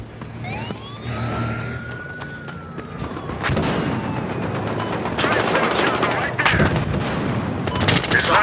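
Heavy gun mounted on an SUV firing in bursts, loud and close, with a siren wailing and sweeping through the opening seconds.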